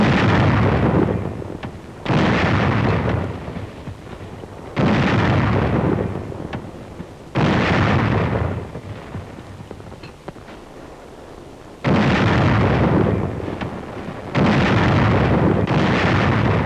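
Artillery fire and explosions from the Korean War in 1951: six heavy, loud booms, each followed by a long rumbling decay, spaced a few seconds apart with no talk.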